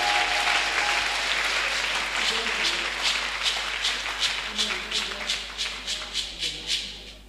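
A church congregation applauds in praise of Jesus. Dense clapping fills the room and slowly thins into a rhythmic, evenly spaced beat of claps toward the end, with faint crowd voices beneath.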